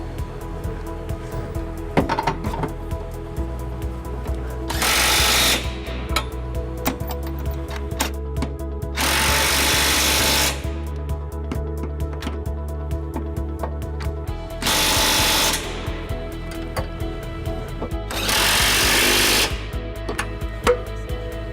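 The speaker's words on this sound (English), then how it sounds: "To snug all these bolts down before we use the torque wrench for the final torque of 50 foot-pounds, we're just gonna use this electric drill with an 11/16 socket." An electric drill fitted with an 11/16 socket snugs hitch bolts on a 2017 Hyundai Elantra, whirring in four loud bursts of several seconds each, separated by quieter pauses with faint clinks, and no one talking.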